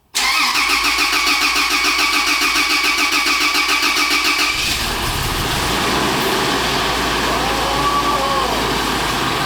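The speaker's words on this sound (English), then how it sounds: "It sounds good when it's cranking over." A rebuilt Toyota Land Cruiser engine cranks with a steady rhythmic churn for several seconds, then fires on its first start and settles into a loud, close, even idle.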